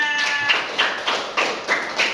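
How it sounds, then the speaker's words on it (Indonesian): A school class claps hands in a few loose, rhythmic bursts roughly every third of a second, close and fairly loud, with a brief voice at the start. "Tepuk tangannya"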